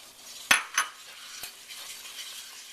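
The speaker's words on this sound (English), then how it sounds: "now I'm going to add my flour and whisk this until it's smooth" Flour whisked into melted butter for a roux for broccoli cheddar soup: a couple of sharp metal scrapes and clinks of the whisk against the pot over a soft, low background sizzle, close by.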